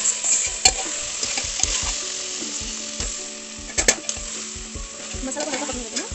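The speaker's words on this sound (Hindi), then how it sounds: "मसाला को हल्का पकने देते हैं" Spiced masala with cumin fries in a pan, giving a steady loud sizzle broken by repeated stirring scrapes and a few sharp clinks, with no voices.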